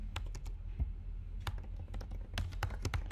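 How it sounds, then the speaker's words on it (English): Quiet keystrokes on a computer keyboard as an email address is typed, coming in irregular bursts of close clicks with short pauses, set against a soft background hum. "watch what happens as we start typing in our email"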